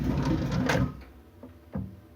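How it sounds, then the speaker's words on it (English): A Smith and Locke soft close adapter on a drawer: a sliding rumble fades, then its metal catch meets the blue plastic part with two soft, close thuds as the drawer eases shut. "See my metal catch there, you see it latching onto the blue bit there and stopping it from slamming."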